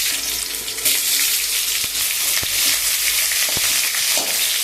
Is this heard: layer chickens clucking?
no